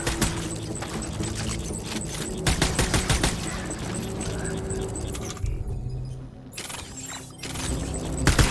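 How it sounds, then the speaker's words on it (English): Gunfire in Death Stranding rattles in rapid automatic bursts, loud and close, with a brief lull before the shooting resumes. "Taking fire."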